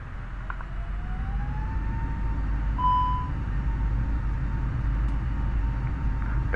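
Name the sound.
A32NX cockpit warning beep, Microsoft Flight Simulator 2020 video game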